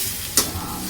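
Brinjal with onion, tomato and spices being stirred in a pan, with a soft continuous sizzle and one sharp scrape of the spoon against the pan partway through.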